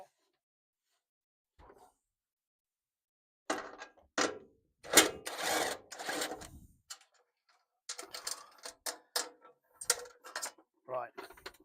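A power ratchet gun spins out a 10 mm bolt on a Maserati 4200 coupe, firing in several close, loud whirring and clattering bursts after a quiet start, with short pauses between runs.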